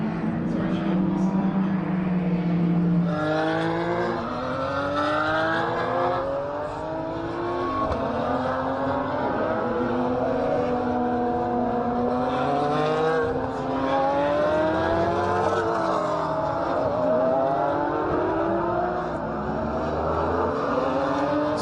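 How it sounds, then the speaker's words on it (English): Sports cars race around the Phillip Island circuit during a state race series round, engines whining and sweeping up and down through gear changes as several cars pass in loud, overlapping waves, with commentary underneath. "fantastic to see all of these cars that have made their way out on track"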